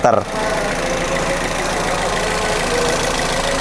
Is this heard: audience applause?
no